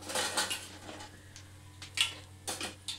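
Fried moong dal vadas set onto a plate, heard as a series of light clinks and taps of utensils against dishware, close and intermittent over a faint steady hum, with no speech.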